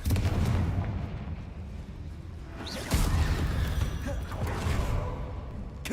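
Fiery Confringo spell blasts in Hogwarts Legacy, heavy booming explosions with whooshing rumble, loud and close, a fresh blast landing about halfway through over continuous game din.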